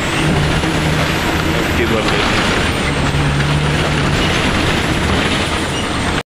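Heavy vehicles idle and rumble at Khed bus station in rain, with buses and trucks producing a loud, steady broadband roar and a brief air-brake-like hiss, while a voice speaks over the noise.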